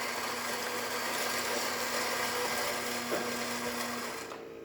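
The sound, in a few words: Gaggia espresso machine coffee grinder grinding one shot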